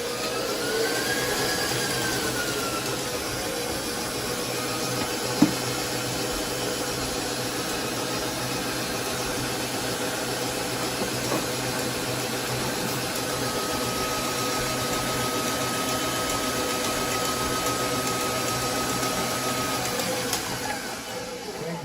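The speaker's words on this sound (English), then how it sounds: "Now we'll turn her on so that everything mixes," A stand mixer runs steadily while blending the dry ingredients for pita bread dough, a constant motor whir with a faint rhythmic churn that holds at an even level throughout, with a single brief knock partway through.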